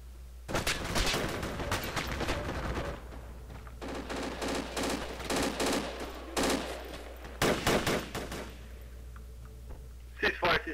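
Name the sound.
gunfire in the video game Project Reality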